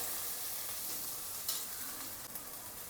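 Tomatoes sizzle and fry in a pan while being stirred for a Maharashtrian rajma masala, giving a steady, close hiss with a few soft scraping accents and no talking.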